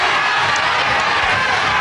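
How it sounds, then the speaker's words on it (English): A wrestling crowd roars angrily in a hall during a 1979 bout between Jim Breaks and Young David, a dense, steady wash of shouting and jeering voices. "And the crowd really angry now"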